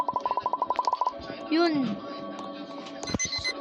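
A rapid electronic alarm beeps in a quick even series in a Roblox horror game, followed by a voice speaking over other electronic tones.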